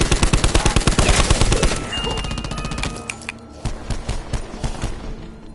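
Burp gun firing a rapid, loud stream of fully automatic shots, then tapering into scattered bursts and clattering echoes.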